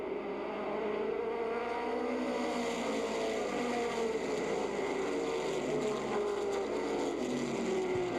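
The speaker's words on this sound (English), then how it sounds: "Here they come! The green flag's out! We're racing!" Stock race cars on an oval track, a continuous droning roar of engines with shifting pitch as the pack passes, steady and moderately distant throughout.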